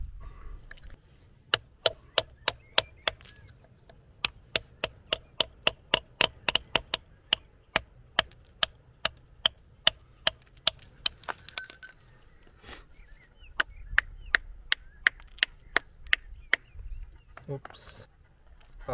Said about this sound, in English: So I'm going to use my chisel and get this ammonite out.